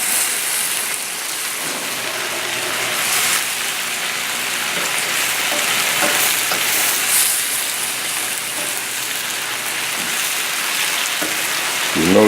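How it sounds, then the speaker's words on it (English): Shrimp and brown rice sautéing in a pan with hoisin and soy, giving a steady, fairly loud broadband sizzle that runs unbroken and close throughout, with a low hum underneath. "it's still sauteing. You can hear the sound"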